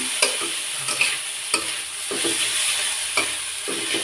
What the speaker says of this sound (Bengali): হলুদ আর লবণের সাথে মাছটা ভালো মতো ভালো করে নিতে হবে মিক্স করে নিতে হবে